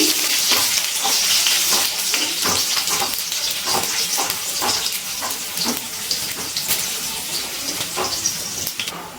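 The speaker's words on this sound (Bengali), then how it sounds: "শুকনো লঙ্কা আর রসুন ভালো করে একটু ভেজে নিচ্ছি।" Five dried red chillies and plenty of garlic fry in hot oil, a loud continuous sizzle close by with a regular scraping of a spoon stirring in the pan.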